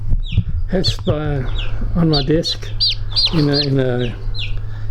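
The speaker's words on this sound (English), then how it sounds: "This is a silky chicken." Silkie chickens at a farm zoo cluck and chirp in short, close repeated calls, with a person talking quietly over them and a steady low hum underneath.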